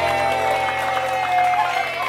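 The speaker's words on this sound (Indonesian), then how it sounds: "Berikan tepuk tangan untuk yang memilih jogetan Meldi lebih bagus." Studio audience on an Indonesian TV talk show clapping, a steady dense wash of applause filling the short stretch at moderate loudness.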